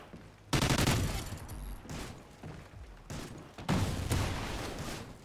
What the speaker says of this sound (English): That guy trying to shoot a shotgun at me.